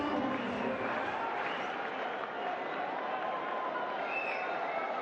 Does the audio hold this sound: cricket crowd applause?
yes